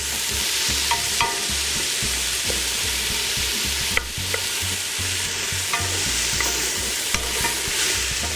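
Onions brown in a pot, a close, steady sizzle broken by repeated scraping stirs and a few sharp utensil knocks against the pot, with no voices.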